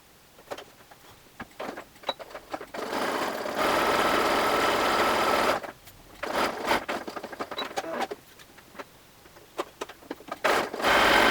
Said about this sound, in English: you're going to stitch the side seam just to the point of the stitching for the gussets